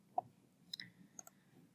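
Sharp, quiet mouse clicks as an option is selected in business software, a few isolated taps spread over a short, otherwise silent stretch.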